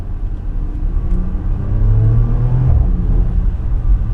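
Porsche Macan Turbo engine accelerating hard on a country road, a loud close rumbling roar that rises in pitch as the car picks up speed, with steady road noise beneath and no voices.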